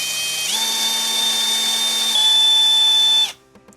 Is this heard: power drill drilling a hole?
yes